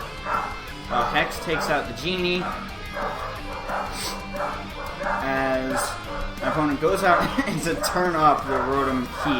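Household dogs bark and yip repeatedly in the background of an indoor room while someone talks steadily over them, the barks coming in uneven bursts throughout.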